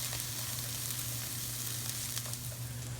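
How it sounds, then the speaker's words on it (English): Garlic sizzling in a gumbo pot, a steady, close frying hiss with a low hum beneath, unbroken and fairly loud for the whole stretch. "We'll let it cook for just a couple of minutes with the garlic to let that flavor really incorporate"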